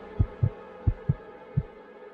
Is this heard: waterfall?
no